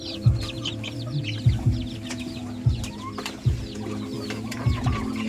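Penned young chickens cluck in repeated low bursts every second or so, close by, with faint birdsong chirping above them and no talk.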